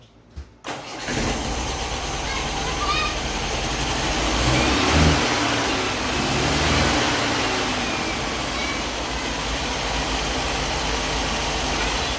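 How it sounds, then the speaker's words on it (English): A carbureted car engine runs steadily after starting, its idle being adjusted down while the carburetors are balanced; a loud, continuous mid-pitched drone with a slight swell in revs partway through, no talking. "We're going to dial down the idle, make sure the carbs stay even, and then we'll readjust from there."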